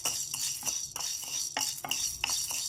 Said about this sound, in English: frying our chana dal on low flame